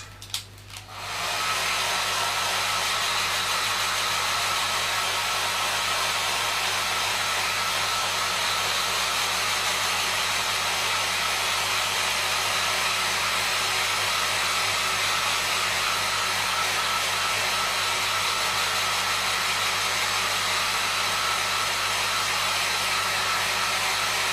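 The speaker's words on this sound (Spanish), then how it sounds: "Un poquito de secador" A hair dryer blows steadily and loudly on fresh paint on a small Bandai Y-Wing palm-size model kit, a constant broadband whoosh running close and uninterrupted after a brief click at the start.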